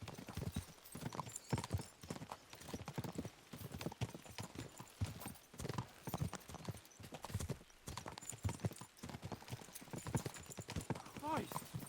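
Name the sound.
horses galloping in video game Kingdom Come Deliverance 2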